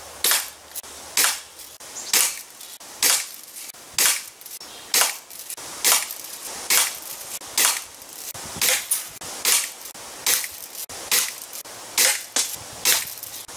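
Daisy Red Ryder BB gun firing at a moldy orange, a steady series of about fourteen sharp snapping shots spaced roughly a second apart, crisp and close with no talk.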